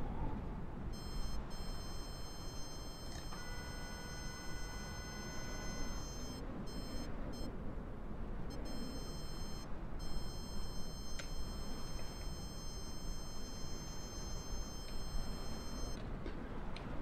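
In Microsoft Flight Simulator 2020, an angle of attack alarm beeps as a continuous high tone with brief repeated interruptions. It sits over a loud, steady rush of wind and cockpit noise, and no one talks.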